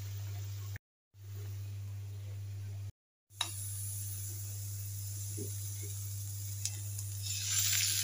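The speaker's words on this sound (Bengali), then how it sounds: "চিংড়ি রান্না করতেছি" Prawns cooking in a pan in a home kitchen, giving a soft continuous sizzle and hiss over a steady low hum, broken by two brief silent gaps, with occasional light clinks.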